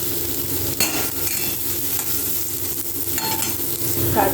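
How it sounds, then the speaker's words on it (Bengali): Paneer pieces fry in oil in a kadai with a steady, close sizzle, broken by occasional scrapes of stirring and a few light clinks of a utensil. "এরপর কড়াইতে তেল দিয়ে হালকা করে পনিরগুলোকে ভেজে নেব।"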